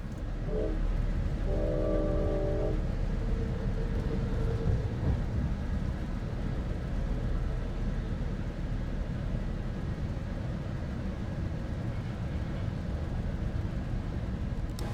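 An Amtrak Capital Corridor train runs across a land bridge through the South Bay of San Francisco, giving a steady, loud rumble throughout, with a short horn blast near the start.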